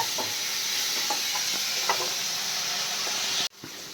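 Doi mach, a fish curry, sizzles steadily in a hot pan while being stirred, with faint scraping knocks under a constant frying hiss that cuts off abruptly near the end.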